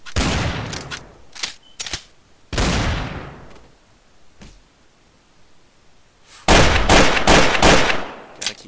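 Shotgun blasts in the video game Garry's Mod Trouble in Terrorist Town, loud close booming shots, several spaced out early and then a rapid cluster of heavy blasts near the end, with no speech.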